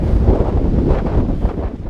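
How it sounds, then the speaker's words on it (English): Strong wind buffets the microphone on the Mount Washington Auto Road during a running race, a loud continuous low rumble and roar with no other clear sounds. "the wind picking up"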